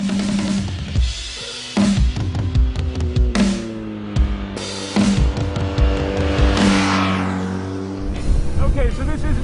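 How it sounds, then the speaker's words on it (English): A BMW R nineT Urban G/S with an air-cooled boxer twin is ridden hard, its engine note rising and falling through repeated revs and gear changes, loud and close with brief drops between pulls. "Boxer twins are all about torque, and you hear for sure this bike has tons of it."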